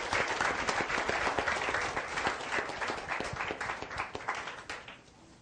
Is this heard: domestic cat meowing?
no